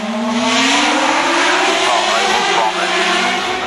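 An Osella PA 27 race car at hill climb training roars close by, its loud, continuous engine note climbing steadily in pitch as it accelerates, with a commentator's voice faintly under it.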